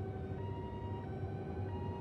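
Several police car sirens wail together in a steady, continuous tone, moderately distant and fairly faint, with no voices.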